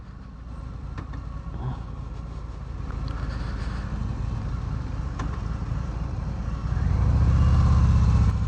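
A Harley-Davidson FXDR motorcycle engine on a test ride holds a steady low rumble that swells louder and deeper near the end as the bike picks up speed, with wind noise over it.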